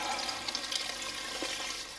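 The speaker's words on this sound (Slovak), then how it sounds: "zalejeme to vodou" Water poured over pan-fried porcyni mushrooms to start a mushroom soup, a steady splashing, filling rush that runs continuously for about two seconds before easing slightly at the end.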